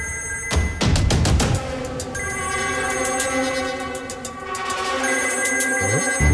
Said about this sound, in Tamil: டேய் போன் அடிக்குது பாரு,